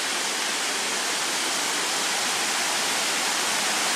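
A river swollen by heavy rain rushes past in a steady, loud, broadband roar of flowing water, continuous and unbroken, with no voices over it.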